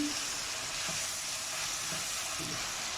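Eggs frying in a pan of sizzling tomato masala for a potato and egg curry: a dense, continuous, even hiss with faint stirring, close and steady throughout.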